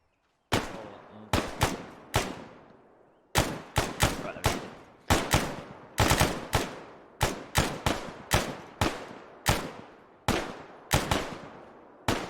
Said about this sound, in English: Alright, lads, start firing in your own time